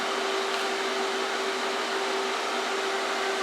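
An Alpha TIG 201XD welder lays a small, slightly cold weld pass, producing a steady buzzing hum with a constant hiss, close and unbroken, with no one speaking.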